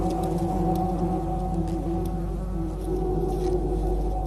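A swarm of bees hums steadily around a hornet, a dense and continuous buzz of many wings at close range with no talk.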